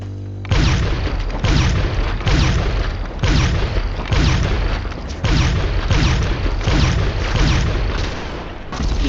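Railgun in GTA on PC firing repeatedly, loud heavy booming blasts about once every second in an even rhythm, each with a short decaying tail.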